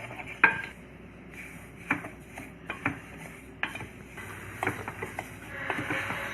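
Semolina (rava) being stirred while it roasts in a dry pan, no oil, for Goan baath cake: a spoon scrapes and taps the pan in an irregular rhythm with occasional sharper knocks, close and steady, with no talking.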